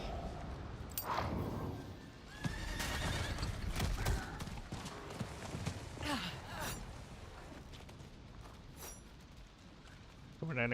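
A horse in the Diablo 4 video game neighs and whinnies with clip-clopping hooves, several loud whinnies over a few seconds amid game ambience and someone talking.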